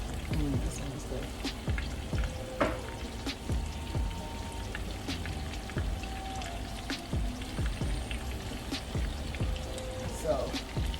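Tail-on shrimp frying in hot oil until golden on both sides, a dense, steady crackle with scattered sharp pops running throughout at close range.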